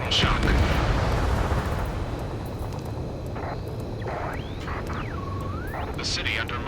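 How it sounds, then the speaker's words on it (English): Jets roar and gunfire rumbles across a city under martial law in the Ace Combat 7: Skies Unknown video game, a heavy, booming wash with sweeping engine whines, and voices speaking over it. "Gunfire and the roar of jets echoing through the streets"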